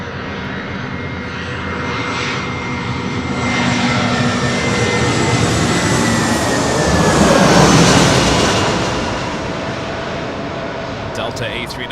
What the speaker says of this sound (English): Delta A319 flying over us as I hold the shot at the A380.